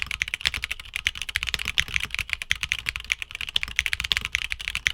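Fast, steady typing on a mechanical keyboard with light tactile switches, light crisp clacks and soft bottom-out thuds in a continuous close-up run, with no talking.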